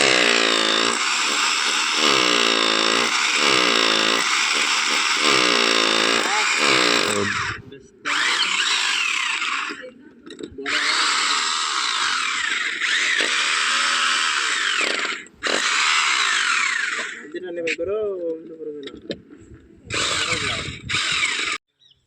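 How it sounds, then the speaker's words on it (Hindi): A power drill runs in repeated loud whirring bursts, a long steady run followed by shorter stop-start pulses, while a rooftop solar panel mounting structure is being installed on a 3 kW home system. "तो ये है ड्रिल अभी।"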